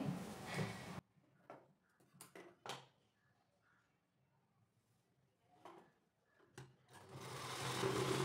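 A sewing machine stitches nauvari sari fabric in two short, fast runs at the start and end, with quiet clicks and taps from handling in between, heard close up.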